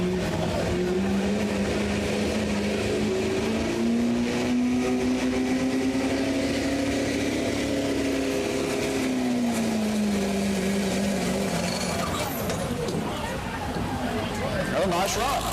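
A pulling truck's engine roars loud and sustained through a full run at a truck and tractor pull in London, Ohio, its pitch climbing and falling as it labors, with crowd babble and an announcer underneath.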